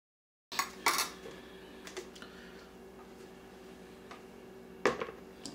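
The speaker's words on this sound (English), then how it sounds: "Alright, let's get this lettuce cut up." A knife cuts lettuce on a board for a taco salad, giving a few sharp chops and clatters with quieter taps between, close and without talk.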